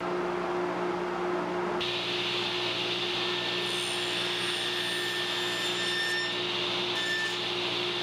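A table saw fitted with a miter gauge and stop block cuts wood miters, starting with a steady motor hum that turns into a harsher, brighter cutting whine partway through and continues to the end, with no talking.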